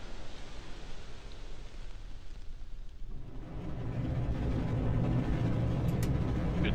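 Rocket engine ignition in the Kerbal Space Program RP-0 game: a steady broadband roar that swells and thickens about halfway through, then holds loud and even to the end, with no voices.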